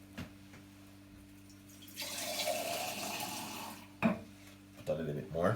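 Water from a tap runs into a container while about two cups are measured out, a steady hissing pour for roughly two seconds with clinks and handling noises around it and a low background hum.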